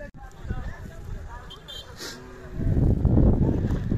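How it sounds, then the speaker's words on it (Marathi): Khillar bulls and young bullocks at the Sangola village fair give deep, repeated moos amid crowd chatter and people talking, the noise swelling louder toward the end. "अशा प्रकारचे चित्रकोसा खिल्लार बडाव बैल आहेत पाहू शकता सांगोला यात्रेमध्ये."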